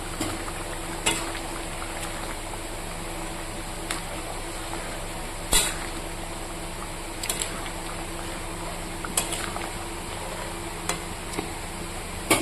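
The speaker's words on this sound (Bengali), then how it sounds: "এবার ভেজে রাখা মাছগুলো দিয়ে দেবে দিয়ে দিলাম" Fried fish going into a simmering vegetable curry in a pan, a soft steady bubbling hiss under a constant background hum, punctuated by a few sharp clicks and knocks from stirring.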